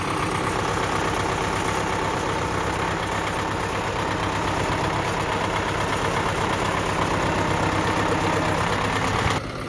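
A YUMZ tractor engine runs steadily at a loud, close, even idle with a rough mechanical rumble throughout, cutting off sharply at the very end.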